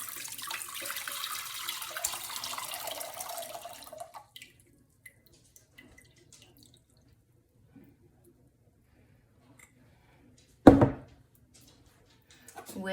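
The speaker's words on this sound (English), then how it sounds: "Now we're gonna dump our water in." Water pours into a container for cucumber pickle brine, a splashy running stream for about four seconds, followed by quiet with a few small taps and one brief loud clunk.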